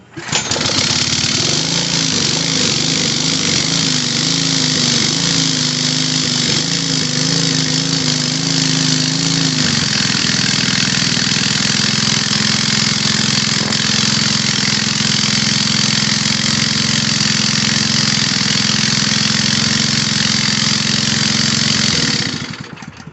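Small gasoline engine of a third lung air compressor, just after a carburetor rebuild and started on full choke, runs loud and close for the whole stretch, its idle steady and even once a wavering opening note settles.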